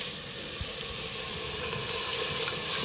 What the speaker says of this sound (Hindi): तो इसमें डालते हैं पानी।